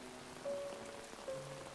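Rain pours steadily in a dramatic night scene, a soft even hiss of falling water filling the background with a faint tonal hum laid over it.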